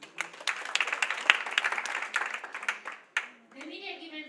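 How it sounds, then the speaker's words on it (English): Audience clapping at an International Women's Day celebration, a moderate burst of applause that fades out after about three seconds, followed briefly by a voice speaking. "So you should clap again."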